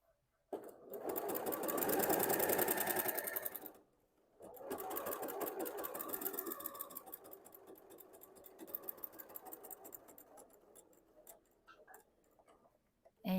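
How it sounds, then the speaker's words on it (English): A sewing machine stitching fabric binding onto the raw edge of a pouch with a quarter-inch seam runs in fast, rattling bursts, with a short pause partway through, then slower, ticking stitches near the end. "we're going to sew the raw edge of our binding to the raw edge of our project with a 1/4 inch seam"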